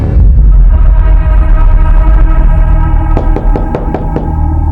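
Someone raps on a door inside a home, a quick burst of several sharp knocks arriving near the end over a loud, busy background.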